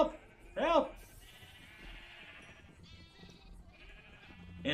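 Sheep in the Minecraft video game bleat, a short, clear, wavering bleat near the start and fainter game sounds and another bleat later, with little else around.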